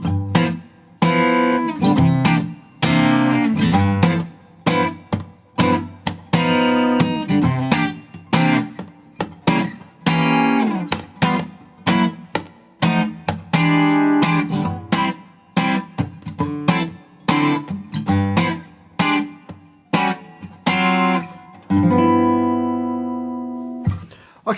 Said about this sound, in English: So when I'm in guitar shops I often play a jazz blues.